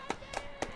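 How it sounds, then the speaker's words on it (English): A few sharp hand claps, three distinct slaps spaced roughly a quarter second apart, ring out in a press box during a girls' varsity lacrosse broadcast, with a tonal hum running underneath. "Clap it up for Max Niven"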